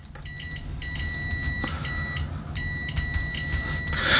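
A Kaiweets HT-206D clamp meter on its continuity test with default test leads gives a few steady electronic beeps that stop and restart, fairly clear over a low background hum.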